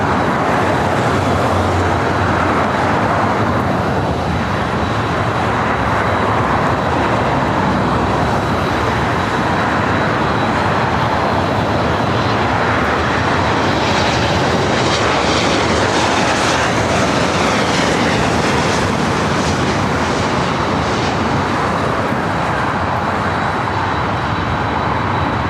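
Airliner arriving at LAX from Sacramento, a loud continuous broadband roar with a rising whine near the middle, sustained for the whole stretch without talk.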